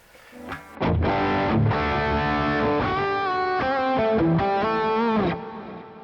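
Electric guitar through a distorted amp preset plays a sustained chord followed by a run of shifting notes, loud and thick with a steady crunch that cuts off sharply at the end.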